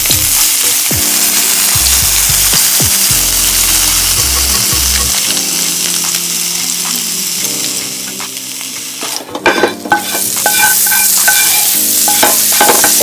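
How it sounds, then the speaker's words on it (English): Curry powder and fresh seasoning blend toasting in hot oil in a pot, a steady loud sizzle with stirring scrapes throughout, a brief clatter near the end, no talking. "What I'm doing now is toasting the curries"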